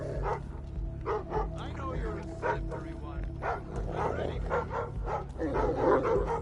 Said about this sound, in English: The dog's sensing me, making the guards